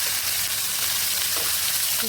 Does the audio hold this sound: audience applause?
no